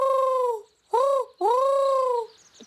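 Three drawn-out cooing calls in a row, a voice imitating pigeons, clear and fairly close with short pauses between.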